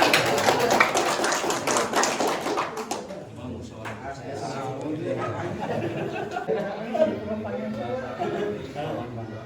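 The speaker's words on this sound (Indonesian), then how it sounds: "Tepuk tangan tuh." Village audience clapping at a local Nahdlatul Ulama branch meeting in Bojong, Banjarwangi, Garut; a dense burst of applause fills the first few seconds, then fades as a voice talks over the murmuring room.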